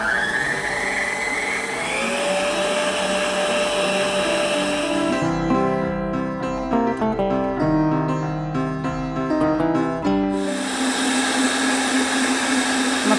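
An electric stand mixer beats cake batter of sugar and a whole egg for a banana cuca cake, a loud, steady motor whine running throughout, with a pitch shift as the load changes partway through.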